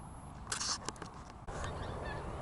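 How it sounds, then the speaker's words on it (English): Geese honking as they fly over a field during metal detecting, a few distant, faint calls in the first second, set against steady outdoor background noise. "Birds on the move, geese I think."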